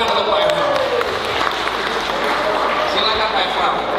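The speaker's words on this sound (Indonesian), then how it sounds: "Tepuk tangan untuk Pak Efram." An audience at an event applauding Pak Efram, a broad continuous clapping from a crowd in a hall with voices running underneath.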